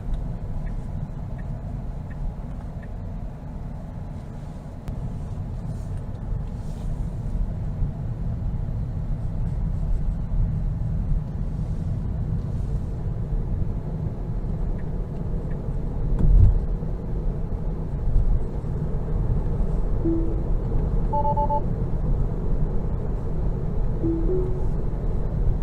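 A 2022 Tesla Model 3 Long Range accelerates on the road with a low, steady rumble of tyre and road noise from inside the cabin. The sound swells slightly partway through, and a few soft chime tones come near the end.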